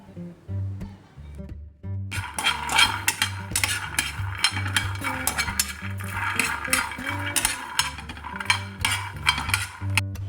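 Peanuts fry in a pan for a coconut-free chutney and are stirred, producing steady crackling sizzle and repeated clinks and scrapes of a spoon against the pan. A low, droning hum runs underneath, and no one talks.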